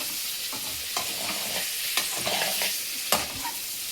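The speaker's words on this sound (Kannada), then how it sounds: "ಮೊಟ್ಟೆ ಬಿಟ್ಕೋಬಾರ್ದು ಅಂತ ಸ್ವಲ್ಪ ಹುರ್ಕೋತಾ ಇದ್ದೀನಿ" Boiled eggs frying in hot oil for an egg and amaranth-stem sambar, with a steady sizzle and occasional stirring knocks from a spoon in the pan.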